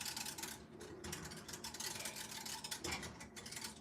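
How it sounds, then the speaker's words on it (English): A small whisk stirring inside a snowman-shaped cup, fast scratchy brushing strokes in quick irregular bursts, close and fairly quiet with no voices. "My little baby whisk did the job."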